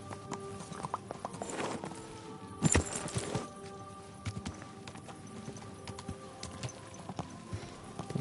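Horse hooves clip-clop in Kingdom Come: Deliverance II, an uneven run of hoofbeats with a louder cluster midway, mixed with faint game ambience and tonal background sounds.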